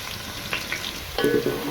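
Steady sizzling and crackling of onions and crushed garlic frying in a hot pan, with a brief stir or clatter adding a louder burst near the end.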